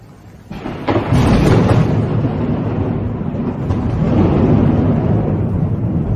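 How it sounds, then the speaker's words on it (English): A heavy thunderstorm near Disney Springs in Central Florida brings loud, deep rolling thunder that swells after a quieter start and keeps rumbling continuously, with a wash of rain-like noise beneath. "Ethan, it's storming pretty bad about 2 miles away from Disney Springs right now"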